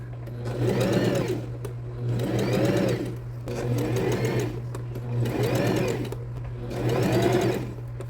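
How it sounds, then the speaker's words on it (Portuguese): A sewing machine stitching fabric runs close and loud in five steady bursts, each a rapid mechanical whir that stops briefly between runs, over a constant low hum and with no talking. "Sem puxar o tecido, quem puxa é a máquina."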